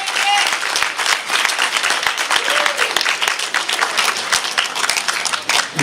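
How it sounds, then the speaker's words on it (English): Wedding guests break into warm, sustained applause for the best man after his toast, a close, dense crowd of clapping hands with a few cheers mixed in, lasting several seconds. "join me in a nice round of applause for best man, Mr. Nick Bouchard"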